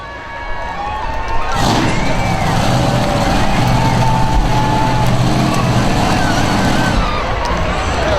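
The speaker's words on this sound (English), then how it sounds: "You heard his truck shut off?" A monster truck engine at a county fair show, a loud steady rumble that holds throughout with a slight rise early on.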